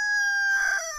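A rooster crows in a chicken enclosure, a single sustained, strained call that rises and then breaks up toward the end, heard close and loud with no talking.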